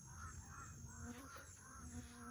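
Two crows caw in a series of short, harsh calls at moderate distance, a faint steady background hum beneath them and no speech.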